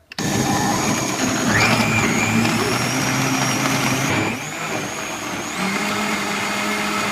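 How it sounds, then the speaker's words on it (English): A blender motor whirs loudly and continuously, its pitch shifting slightly as the contents churn, running alone without voices. "It's a really awesome, powerful blender."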